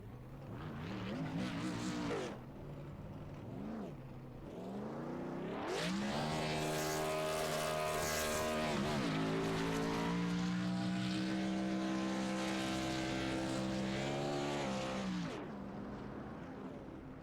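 A race car engine in an iRacing simulation roars and revs at high pitch in a sustained victory burnout, the tone wavering and rising, loud and close with a tire-squeal edge.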